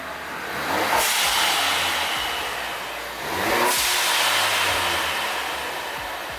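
A stock exhaust on a 2013-2016 Ford Focus ST revs twice, each blip swelling into a loud broadband roar and settling back to idle, with no talking.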